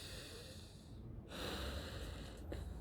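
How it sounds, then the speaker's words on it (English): A deep belly-breathing inhale during a relaxation exercise, drawn in as a long airy rush through the nose, close and fairly loud, with a second sharper intake near the end and no speech. "inhale, relax, two-third belly breathing, one-third chest, and alternate with an inhale"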